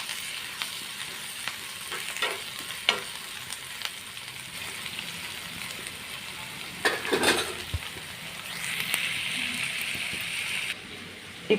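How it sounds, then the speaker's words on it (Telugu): Ginger garlic paste fries in oil in a pan, a steady soft sizzle with a few spoon-stirring clicks, swelling louder near the end before a brief drop. "కొంచెం అల్లం వెల్లుల్లి పేస్ట్ ఆయిల్లో మంచిగా ఫ్రై అవ్వాలండి"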